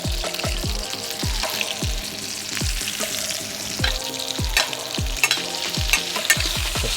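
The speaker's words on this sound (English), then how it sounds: "put 2 small butter for 1 portion of salmon. And don't forget to flip it over." Salmon portions frying in garlic butter in a pan, a continuous close sizzle punctuated by repeated sharp clacks and scrapes of a utensil as the fish is flipped and moved, with light background music.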